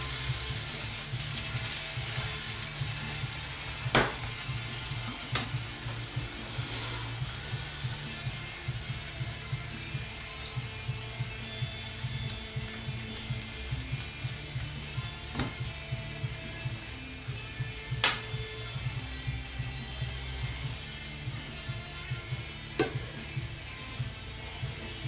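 Oatmeal pancakes fry in a Teflon pan with a steady, close sizzle that runs throughout, broken by a few sharp clicks and taps.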